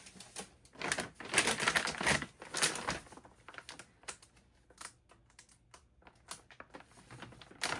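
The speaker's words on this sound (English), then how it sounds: "Sorry, Mason, gotta open your bag." Crinkly plastic bag wrapping a pair of Nike SB sneakers is torn open and handled, giving close, irregular rustling and crackling bursts with quiet gaps in between, with no talking.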